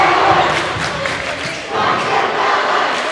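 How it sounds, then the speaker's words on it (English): The Granger student section chants loudly at a high school basketball game, a dense roar of many voices rising and swelling. "What you hear is the Granger student section, or just the Granger crowd, coming to life and chanting"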